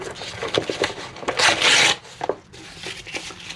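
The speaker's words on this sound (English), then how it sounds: "should I do a bit more sanding? I do have the 600 grit paper here" Rough rubbing strokes of 600-grit sandpaper scrape back and forth during a Honda CX500 motorcycle build, with one longer, louder rasping pass in the middle and quieter scuffs around it.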